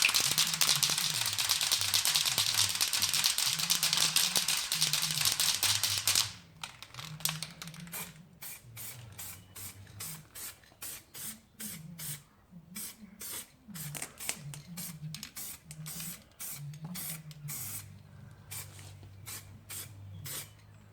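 A spray can lays a second coat of Sapphire Blue Metallic paint on a Jaguar XK8 sill. A close, continuous hiss lasts about six seconds, then a run of irregular light clicks and rattles follows.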